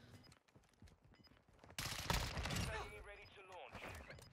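Burst of rapid gunfire from a Call of Duty match, loud and dense for a couple of seconds after quieter game sounds, with players talking over it.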